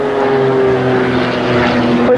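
A carbon-fibre-winged aerobatic plane with a 300 horsepower Lycoming engine drones loudly and steadily overhead at an airshow, its propeller tone holding a sustained pitch throughout.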